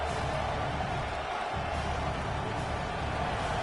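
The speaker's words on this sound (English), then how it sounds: "how nice is it to have the home crowd going absolutely bananas" A home crowd roaring at a college football game, a dense, loud, steady wall of cheering and noise from a packed stadium, with a commentator's voice faintly mixed in.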